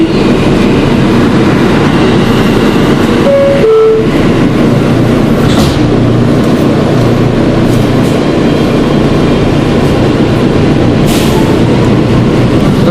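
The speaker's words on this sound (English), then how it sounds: "There goes a train going to Coney Island." A New York City subway Q train, a Kawasaki R160B car, roars loudly and continuously with rattling wheels and clickety-clack on the track, plus a short tonal signal early on, heard up close with no talk.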